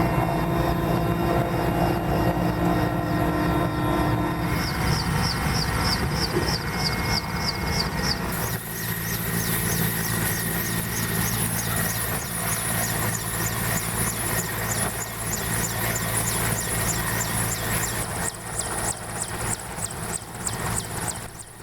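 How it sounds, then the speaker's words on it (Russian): A helicopter carrying a climbing party at a high-altitude mountain landing strip, its engine and rotor droning loudly and continuously throughout, with steady blade chop and a shift in tone midway as it turns and departs. "Вертолет улетел, но обещал вернуться со следующей партией альпинистов"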